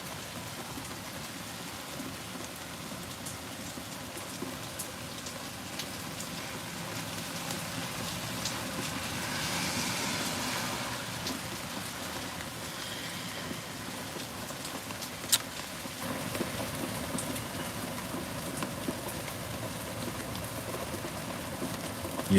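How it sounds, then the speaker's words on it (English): Heavy rain pours down in a constant broad wash of patter, fairly close and even, swelling slightly around the middle, with a few sharp knocks and no speech. "It's like that down south rain"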